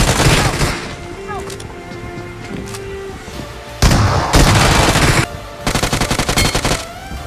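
A PUBG Mobile shotgun fight: loud rapid bursts of gunfire and booming shots in quick sequences, a pause, then more firing bursts near the end.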